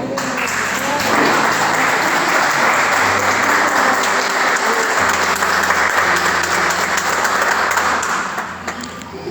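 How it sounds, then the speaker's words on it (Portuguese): A church congregation applauds steadily and loudly for several seconds, a dense wash of clapping that holds, then eases slightly near the end. "podeis assentar, mas aplaudindo o nome do Senhor."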